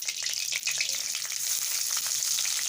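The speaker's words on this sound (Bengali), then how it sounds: "কাটা ভাজা তেলটার মধ্যেই মা একটু সরষের তেল দিয়ে দিয়েছে। এবার এর মধ্যে জিরে ফোড়ন দিচ্ছে।" Cumin seeds crackle in mustard oil left over from frying fish bones, a quiet but dense patter of tiny pops and sizzling spread evenly throughout, no voices.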